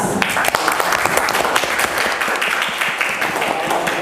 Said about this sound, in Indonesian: Aplaus keras